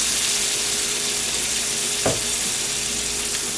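Lasagna sauce with vegetables sizzles in a pan as it is stirred, giving a steady, close frying hiss with one brief scrape of the spoon partway through.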